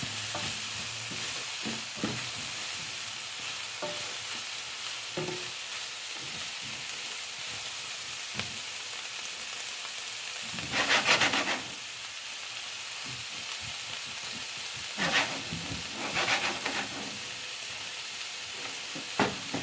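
Fresh garden tomatoes stirred in a hot pan as they cook down for pasta sauce, giving a steady sizzle with scraping stir strokes that rise in a few louder bursts, close and with no talk.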